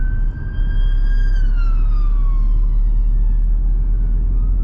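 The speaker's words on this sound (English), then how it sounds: "So there's a ambulance behind" An ambulance siren wails, rising and slowly falling, fairly distant behind a moving car, over a steady low road rumble inside the car.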